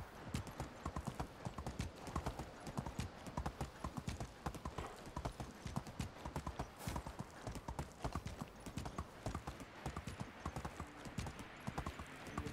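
Horse hooves clip-clop at a steady walking pace in the Medieval Dynasty video game, a long run of regular, fairly close hoofbeats on firm ground.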